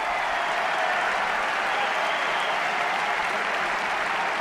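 Steady, dense applause from a large tennis crowd at the Roland-Garros men's final between Alcaraz and Zverev, loud and continuous throughout with no pauses.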